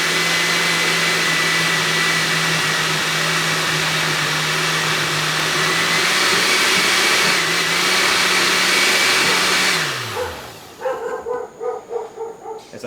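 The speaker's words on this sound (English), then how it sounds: "we're going to blend it, pulse it really quick." A blender runs steadily and loudly on a vegan mozzarella mixture for about ten seconds, its motor winding down before a series of short, rapid pulses close to the mic.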